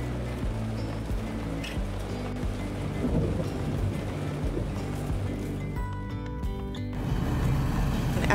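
Heavy rain and a thunderstorm at the start of the Appalachian Trail approach, a dense constant downpour hiss with low rumbling thunder underneath, loud and unbroken throughout.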